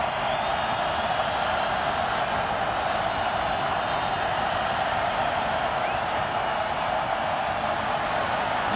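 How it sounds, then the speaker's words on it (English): Football stadium crowd at a Wyoming at Boise State college game roaring steadily on third down, a constant loud wash of distant cheering with no breaks. "Crowd comes alive on 3rd down."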